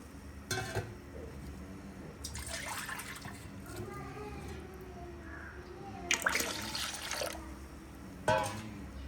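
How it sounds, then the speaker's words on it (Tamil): Water splashes and gurgles into a cooking pot in short bursts while making rava kesari, with quiet background noise between pours. "இப்போ நாங்கள் நிற்கிறதுக்கு கொஞ்சம் தண்ணியும் வந்து சேர்த்துக்கொள்கிறோம்"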